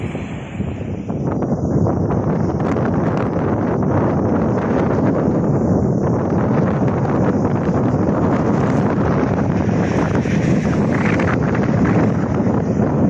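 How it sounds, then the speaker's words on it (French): Strong wind buffets the microphone near Palafrugell, a loud, steady roar of rumbling gusts that never lets up, with no voices over it. "aujourd'hui il y a beaucoup de vent"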